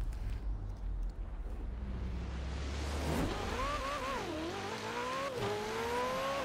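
A Dodge Viper from 2008 in Forza Horizon 4 during a cross-country race: steady engine drone that rises and falls in pitch as it revs through gear changes, with a loud continuous tone and no voices.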